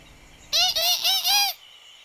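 A cartoon baby bird chirps four quick, high, piping peeps in a row, close and clear against a quiet background.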